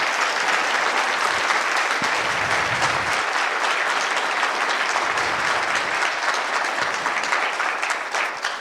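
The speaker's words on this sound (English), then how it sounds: "So one round of applause to Ste." An audience claps during closing remarks at a conference, dense continuous applause that stays loud and even for the whole stretch with no talking.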